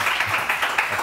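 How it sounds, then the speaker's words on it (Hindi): Studio audience on a morning TV show clapping to welcome a guest, a short burst of steady, moderately loud applause with distinct individual claps pulsing through it. "जोरदार तालियों में वेलकम करेंगे डॉक्टर जावेद आलम को"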